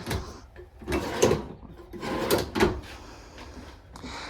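Wooden drawers in a 2024 Keystone Cougar 355FBS RV slide open and shut several times in quick succession, with soft thuds and rumbling runners, fairly close and loud.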